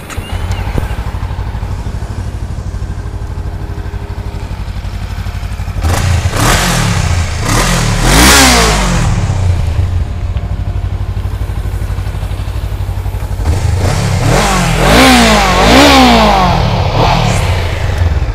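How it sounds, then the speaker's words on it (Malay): A used 2017 Honda Rebel 500 chopper with about 81,000 on the clock idles close up with a steady rumble, then revs sharply several times in bursts that rise and fall back to idle. "jom kita start tengok Honda Rebel 500 bunyi dia macam mana"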